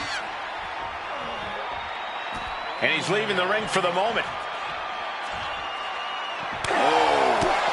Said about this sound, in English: His Canadian bias crowd continues to let Shawn Michaels know what they think about him